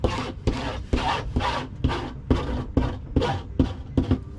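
Rhythmic rubbing as tape is pressed hard into the fabric of a boat window sunshade, about nine firm back-and-forth strokes at close range, with no talking.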